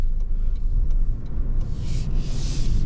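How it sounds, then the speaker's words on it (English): Toyota 4Runner four-cylinder engine driving on the road, a steady low rumble of engine and tyre noise from inside the cabin, with a faint hiss rising near the end and no talk. "You know, the 4-cylinder doesn't sound too bad."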